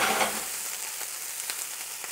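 Bacon sizzles and crackles steadily in a pan over high heat, a dense frying hiss with a few light stirring scrapes, close and alone.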